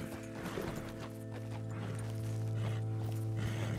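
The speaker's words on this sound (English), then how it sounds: "I shouldn't make my horse run into trees" Horse hooves clip-clop at a walking pace in the video game Red Dead Redemption 2, faint and rhythmic beneath a sustained low musical drone.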